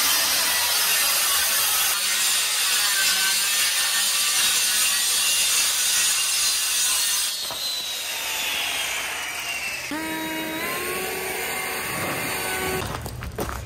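Yellow tongue particleboard being sawn to trim its side edge, a steady rasping cut running loud and close for most of the span, with a rising whine and ratcheting tool noise near the end.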